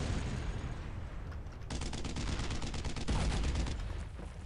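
Dense gunfire from a WWII battle in Brothers in Arms: Road to Hill 30, with rapid rifle and machine-gun bursts crackling continuously and loudly, growing heavier partway through, with no voices.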